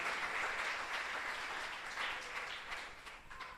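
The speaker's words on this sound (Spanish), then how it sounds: "¿Qué esperas para darle un aplauso al Señor y alabarle?" A church congregation applauds in praise during a Spanish-language service, a steady sustained wash of many hands clapping, fairly faint and distant, fading slightly toward the end.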